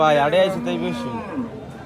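A cow lows at a crowded cattle market, one loud close moo with a drawn-out, wavering tone lasting about two seconds over background chatter.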